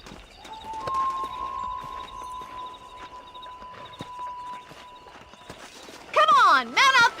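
Horse hooves clip-clopping steadily as a rider moves cattle in the Red Dead Redemption video game, with a sustained tone in the game score and spoken dialogue over it, then loud sharp cries near the end.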